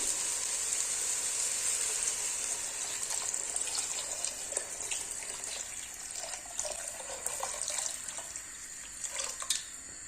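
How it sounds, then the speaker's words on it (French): Water poured steadily over stewing carrots, onions and spices in a pot, a continuous splashing gush for about ten seconds with no talking. "Une fois que les épices et les oignons sont bien imprégnés avec les carottes, vous couvrez d'eau."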